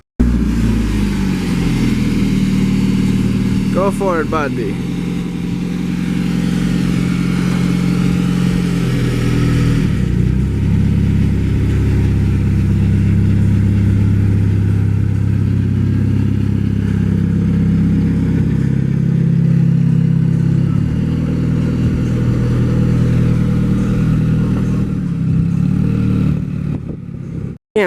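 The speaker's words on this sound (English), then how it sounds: "Hurry up, move so Joseph can get his car out my garage." A car is driven out of a home garage, its engine revving loudly with a clattering, rising and falling roar that holds for nearly half a minute; a voice briefly calls out near the start.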